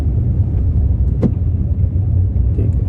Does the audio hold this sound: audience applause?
no